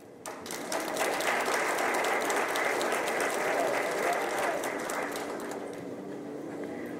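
Audience applause at a public safety town hall meeting, a steady sustained round of clapping from a crowd indoors.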